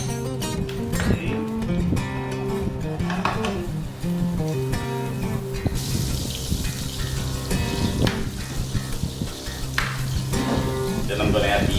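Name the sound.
oil and butter sizzling in a hot pan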